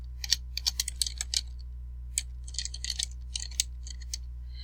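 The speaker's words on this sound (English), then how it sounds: "So I'm just going to type in South Atlanta High School." Keyboard typing of a high school name into a computer search bar, a quick run of close, crisp key clicks in short bursts with brief pauses, over a steady low electrical hum and no talking.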